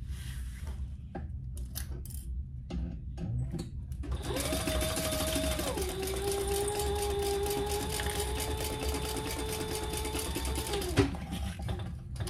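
A sewing machine runs steadily for several seconds, top stitching a toiletry cosmetic bag, with a steady whirring hum and a faint mechanical whine, after a few light clicks and handling sounds.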